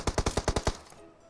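Video game gunfire comes as a quick burst of about six evenly spaced shots, close and punchy, then fades into quiet.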